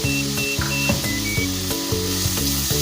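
Carrots fry in a pan for a Pakistani-style spicy chicken macaroni, a steady broadband sizzle with music-like tonal layers and periodic soft clunks, probably stirring, throughout the short stretch.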